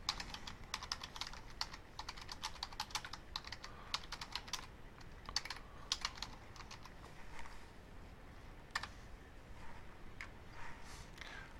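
Rapid clacking of computer keyboard keys while cell text in an Excel spreadsheet is edited, quick bursts of close, crisp keystrokes with short pauses, no voices.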